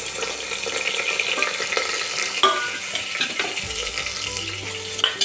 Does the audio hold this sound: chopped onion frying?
yes